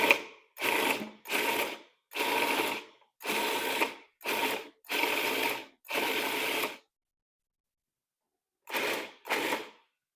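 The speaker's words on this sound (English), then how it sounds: "I'm gonna put them in my pureer" Electric pureer processing finely cut Kieffer pears, running in a series of short, loud, close grinding pulses of roughly half a second each, followed by a pause and two final bursts.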